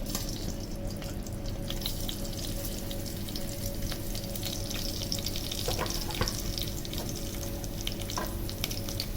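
Garlic and whole garam masala fry in about half a cup of oil for Sindhi village chana dal, giving a close, continuous crackling sizzle with scattered pops and no voices.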